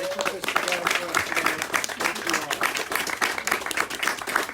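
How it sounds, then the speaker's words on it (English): Audience applause at a ribbon cutting for The Hamilton at Lakeside in Kissimmee, Osceola County: steady, dense clapping from a crowd that runs through the whole stretch, with a voice speaking faintly underneath. "Give them a big round of applause."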